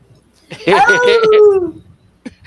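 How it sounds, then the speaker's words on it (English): A dog howls once, close and loud, a single drawn-out wavering howl of about a second that falls in pitch, with faint sounds before and after. "that's enough howling"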